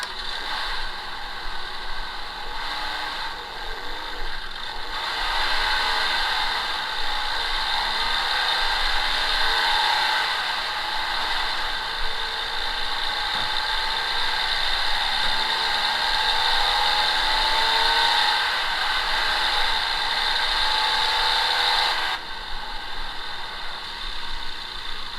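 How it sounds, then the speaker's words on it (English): Electronic engine sound from a toy Porsche kit car, a steady buzzing, whirring drone that starts up and runs continuously for most of the stretch before cutting off near the end, heard alone without talk. "you press the little button and it starts the car up and drives off"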